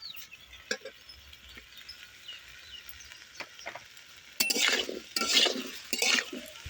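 Ginger and green chili paste is stirred into vegetables frying for shukto, with scattered utensil taps against the pan, then louder scraping stirs over a faint sizzle.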